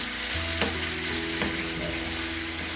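Pork and holy basil stir-fry sizzles steadily in a hot pan, with a few sharp scrapes and clacks of a utensil tossing the meat and wilting basil, close and continuous with no voices.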